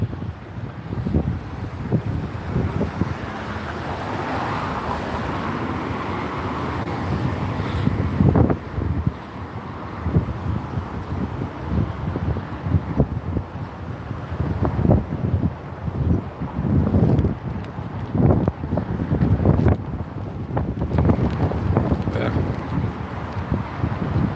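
Strong wind blowing outdoors at a city street gathering in Kansas City, a constant rumbling buffet against the microphone with gusty surges, heard under ongoing talking throughout.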